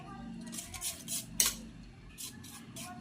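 Egg mixture with turmeric and salt being beaten in a bowl for anda pav: quick, light clinking and scraping of a utensil against the bowl, with a few sharper clacks in an irregular rhythm, close and moderately quiet.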